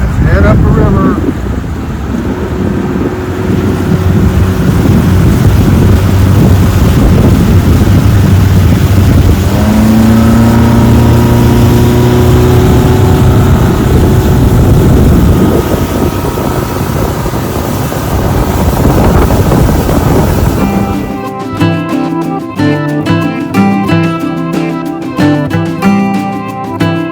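A boat motors up a river on Lake Okeechobee on a blustery morning, its engine a loud, steady drone with heavy wind buffeting throughout and a shift in tone near the end.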